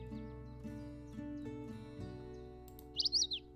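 Bird song from the Wingspan digital board game: a quick burst of high chirps near the end, heard over a sustained instrumental music bed.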